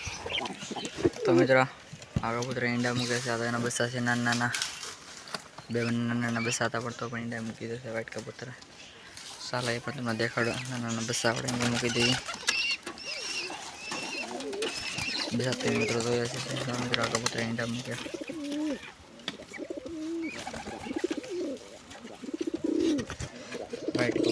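Domestic pigeons kept with eggs and chicks coo in low, repeated throaty bursts, close by, while a person talks over them throughout.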